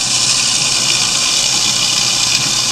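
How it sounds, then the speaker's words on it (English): A kitchen garbage disposal grinds steadily while tap water runs into the sink, a loud, constant mechanical whir and rushing hiss with no pauses and no voices. "I'm leaving the Garburator going here and the water going"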